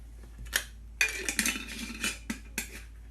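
A spoon scrapes and clinks against a bowl while stirring oats and raisins, a handful of sharp irregular knocks and scrapes, close and otherwise quiet.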